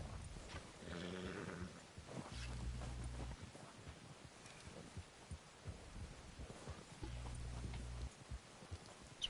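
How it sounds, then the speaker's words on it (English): Horse hooves in the Western game Red Dead Redemption 2, snowy terrain, give a faint, uneven clip-clop of shuffling steps with a few heavier thuds, low in the mix and without talk. "That's what I hate about the horses. They never stand still."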